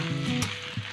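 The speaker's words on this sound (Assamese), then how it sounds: "আৰু এফালেও মোৰ বাঁহৰ গাজখিনি ভাজা হৈয়ে আছে" Bamboo shoots frying in a pan, a brief close sizzle with a soft stirring scrape near the middle.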